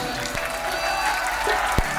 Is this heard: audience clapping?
yes